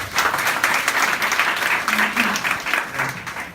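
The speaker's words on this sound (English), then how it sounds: "Let's give him a round of applause." Audience at a healthcare and biotech panel discussion breaking into applause, a full, sustained crowd clapping that fills the room evenly and tapers slightly at the end.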